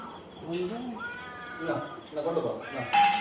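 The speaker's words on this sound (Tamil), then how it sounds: "பெரிய பூனை தான் என்ன இருக்கு." A large cat at home meows several times in drawn-out, rising and falling calls, close and fairly loud, with a brief sharp noise near the end.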